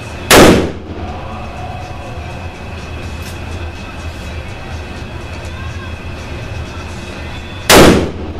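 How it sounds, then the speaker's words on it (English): .460 S&W Magnum revolver fired at a shooting range: two sharp, very loud gunshots, one near the start and one near the end, separated by a stretch of steady outdoor background noise. "Still shooting to the left."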